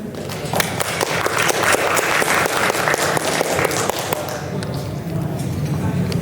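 A seated audience at a Jakarta design conference session on inclusive lighting applauds to welcome a speaker, the close, busy clapping swelling then thinning slightly toward the end, with a faint voice underneath.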